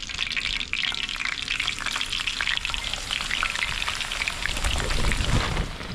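Fish coated in seasoned cornmeal sizzling in crowded hot oil, with a steady, dense crackle and spatter heard up close. The frying runs without a break, and no one speaks.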